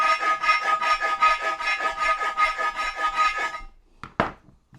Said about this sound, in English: that's going to need some filing, and I've got a circular file